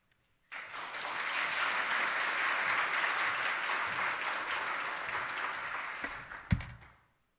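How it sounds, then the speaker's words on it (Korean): A church congregation applauds steadily for several seconds, a dense wash of clapping that swells and then tapers off, with one louder thump near the end. "나오실 때 박수로 환영해 주시면 좋겠습니다."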